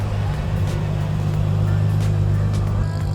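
A Toyota Supra engine runs as a steady, low, droning hum that stays level and close throughout, with no voices over it.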